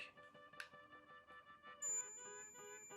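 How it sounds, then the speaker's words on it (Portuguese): A digital multimeter on continuity-test mode gives a single steady electronic beep that starts partway through and holds to the end, clear over faint room background. "ao selecionar, deveria fazer BIP"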